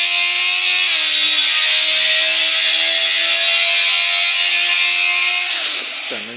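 In the racing video game Traffic Rider, a motorcycle engine drones loudly and steadily while riding through a tunnel, holding a high sustained whine with one brief pitch dip, then dropping away abruptly at the end.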